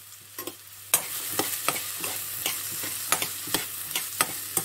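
Carrots and onions cook in a pan with a low continuous sizzle, punctuated by regular sharp clicks and scrapes of a utensil stirring, close and moderately loud, no voices.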